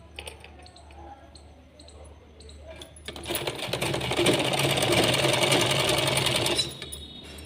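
A sewing machine stitches a sleeveless blouse. It starts quietly with light handling, then runs in a loud, rapid, continuous whir for about three and a half seconds before stopping.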